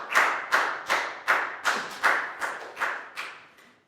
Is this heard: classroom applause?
yes